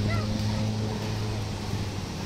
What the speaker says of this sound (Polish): A tu już mamy morze, sporo łódek.